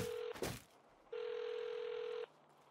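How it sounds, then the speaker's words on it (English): A burner phone rings in the Saints Row video game: two electronic tone bursts, a short one and then a longer steady ring, separated by a brief noisy clatter, at moderate level with no talk. "Pick up the burner phone."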